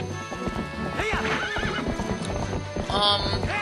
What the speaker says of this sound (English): let's just take our horse back here again